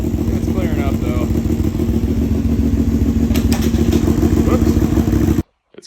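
A project motorcycle's engine runs steadily and loud on clean fuel, a constant throbbing roar close by that cuts off abruptly near the end.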